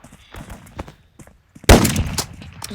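Gunfire in a Roblox video game: light clicking and small shots, then one loud, sharp blast followed by a short burst of rapid shots, close and punchy.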